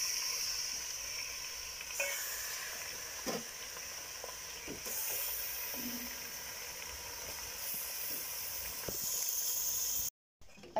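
About one and a half kilograms of beef for Peshawari namkeen gosht drops into a hot pan and sizzles with a steady, close hiss, with a few faint stirring knocks and no talking.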